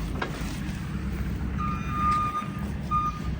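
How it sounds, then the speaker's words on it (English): A John Deere 6930 tractor idles and rumbles steadily on a farm during fertiliser spreading, and partway through a series of loud, evenly spaced reversing beeps sounds over the engine. "and then Ben will drive it over the top"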